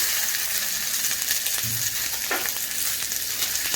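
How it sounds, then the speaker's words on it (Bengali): Steady, dense sizzling of onions frying in hot oil, close up, with a brief scrape or clink partway through. "তারপরে আমি কুচানো পেঁয়াজটা এখানে দিয়ে দিচ্ছি"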